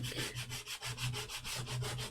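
Rhythmic back-and-forth scraping of a nail file sanding cardstock, about five quick strokes per second, close and steady.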